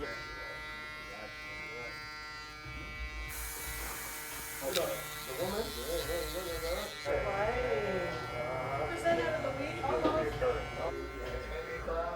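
Electric hair clippers buzz steadily and close while fading a curly haircut, shifting in pitch as the blades move through hair, under someone talking throughout.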